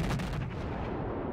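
Naval guns in the World of Warships naval battle game fire in a loud, booming burst at the start, then a rumbling low roar trails off and fades, with no voices over it.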